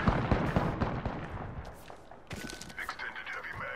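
Bursts of Prowler SMG fire in the battle royale video game Apex Legends, sharp rapid cracks in quick clusters mixed with other game sounds, with someone speaking over the action.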